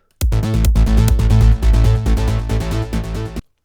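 Spire software synth playing the 'bass rolling 2' preset from a preset pack for uplifting trance: a loud, full rolling bass line with rapid repeated pulsing notes and bright harmonics, heard alone for about three seconds.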